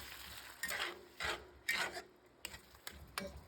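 A spoon stirring palak chicken in a pot gives a series of soft scraping strokes, about six of them, close, quiet and irregularly spaced, with no voices.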